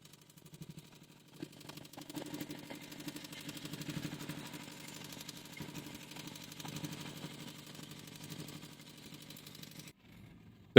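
After its fuel injection pump is reassembled, a diesel engine starts with a few chugs and then idles with a steady, rapid knocking rhythm at moderate volume before stopping near the end.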